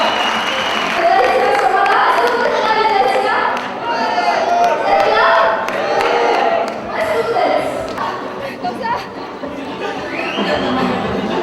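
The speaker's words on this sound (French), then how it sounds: "Applaudissez s'il vous plaît, Rwanda." Audience applauding for Rwanda at a flag presentation at JC CESAM in Meknès in 2011, sustained loud clapping from a crowd with cheers and voices mixed in, fading slightly then swelling again near the end.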